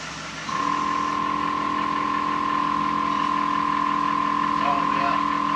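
Air ride suspension on a VW Lupo inflating, a compressor hum that starts abruptly and holds a loud, steady whine throughout, close by with no talk over it.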